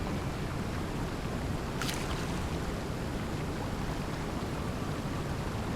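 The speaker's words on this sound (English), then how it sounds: "the roar of these waterfalls is so loud" Roaring waterfalls in the online game Lord of the Rings Online, a dense, constant rushing roar of falling water with no break, loud and enveloping.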